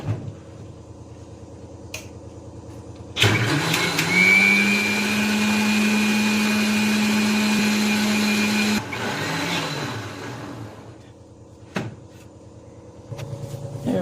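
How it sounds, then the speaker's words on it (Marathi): A mixer grinder churning milk cream for homemade ghee starts with a click and whirs loudly for several seconds with a steady high whine, then stops; a few clicks before and after. "आपण मिक्सरच्या भांड्यात साय घातली। आता पाणी लगेच नाही घालायचं, अगोदर आपण असंच फिरून घेऊ"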